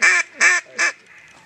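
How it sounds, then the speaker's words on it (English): Three loud, raspy quacks from flying mallard ducks in quick succession, close by, with a quiet stretch after. "Here, mallard's flying."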